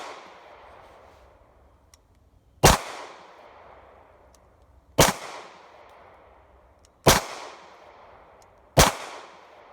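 Hi-Point C9 and Hi-Point 45 pistols firing, four sharp, loud gunshots spaced a couple of seconds apart, each followed by a short decaying echo outdoors.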